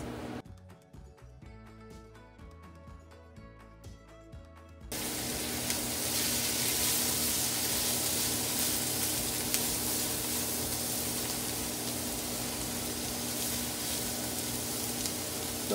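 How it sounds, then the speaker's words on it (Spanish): Vegetables for Chinese-style seafood fried rice go into a pan. They start sautéing with a sudden loud, steady sizzle that carries on close and unbroken after a quieter start, with no talking. "Vamos a empezar a sofreír los vegetales, a saltear los vegetales."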